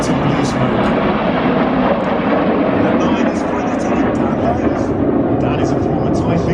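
RAF Red Arrows jets roar in a steady, loud wash of engine noise during an air show display, with a commentator talking over it throughout.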